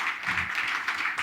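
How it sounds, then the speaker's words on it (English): An audience applauds a pair of people at an event, a dense, steady burst of clapping heard close and fairly loud, with no speech over it. "Once more round of applause for both of them."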